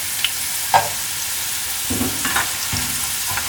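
Steady hot-oil sizzling with crackles and pops, plus a few scraping stirs, as whole spices fry together with onions.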